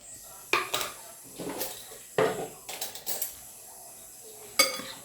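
A utensil clinks and scrapes in a bowl while chicken marinade of soy sauce, vinegar and calamansi juice is mixed, several sharp knocks and softer stirring scrapes, close and fairly quiet.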